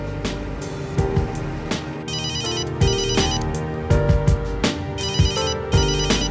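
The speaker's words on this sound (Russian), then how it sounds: "у тебя телефон звонит" A mobile phone plays a loud electronic ringtone, a repeating melodic pattern of bright tones with rhythmic beats, alone and continuous.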